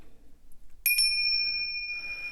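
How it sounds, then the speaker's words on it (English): A pair of hand bells struck loudly during a tarot reading, two sharp bright strikes followed by a long, clear ringing sustain that slowly fades, heard alone without talk. "I'm going to make a loud sound here with these bells"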